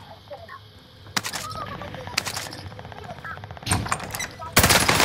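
Bursts of automatic gunfire in the Warzone video game on Fortune's Keep, several loud rattling volleys separated by brief pauses, with game effects in the background.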